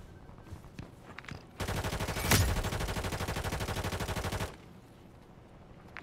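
A sustained burst of rapid automatic gunfire in Call of Duty, loud and close, hammering steadily for about three seconds before cutting off abruptly and leaving a low ambient hum.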